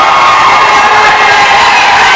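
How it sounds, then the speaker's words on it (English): Crowd at an independent wrestling show roaring and cheering nonstop, a dense wall of shouting and whoops close around throughout with no break. "Listen to that crowd, Joe."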